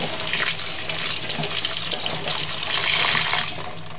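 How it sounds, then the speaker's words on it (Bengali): Tap water pouring onto boiled instant noodles in a strainer, a loud continuous splashing rush that runs steadily and eases slightly near the end. "সাথে সাথে একটু পানি দিয়ে এটা চতুর্দিকে একটু ধুয়ে নিতে হবে"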